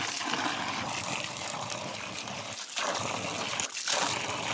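Fresh water runs steadily like a stream in the open air, a continuous broadband rush with two brief dips in the flow, with no talking.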